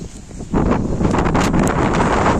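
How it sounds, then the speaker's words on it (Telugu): Strong wind roars and buffets the microphone in a steady, loud rush after a brief quieter start. "గాలి వెనక్కి వేస్తుంది గాయస్. చూడండి చెట్లు ఏటి లేవు, గాలి వేస్తుంది గట్టిగా"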